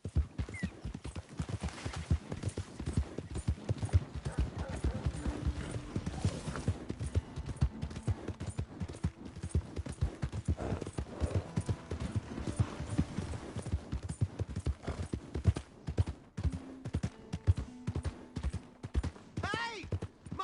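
Steady clip-clop of horse hooves plodding along in a game, with an occasional whinny and a voice speaking over the hoofbeats.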